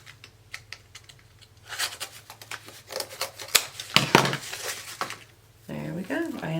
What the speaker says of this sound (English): Just slide your scissors in and trim it away.